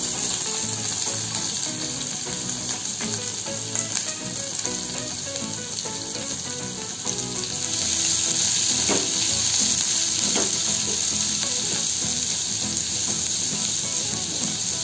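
Onions sizzle and fry in a hot pan for a vermicelli upma, following roasted peanuts, a steady dense crackle that grows a little louder partway through, with no talking.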